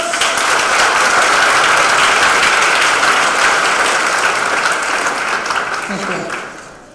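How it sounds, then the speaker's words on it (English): A large audience gives a huge, dense round of applause for a speaker after her talk, loud and sustained, then fading out toward the end. "Please give a huge round of applause for her talk"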